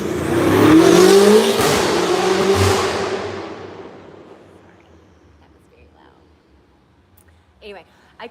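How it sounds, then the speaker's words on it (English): A loud car speeds past outdoors, its engine roar building and peaking over the first few seconds and then fading steadily into the distance, followed by near silence with a faint sound at the end. "oh gosh, sorry, loud car coming"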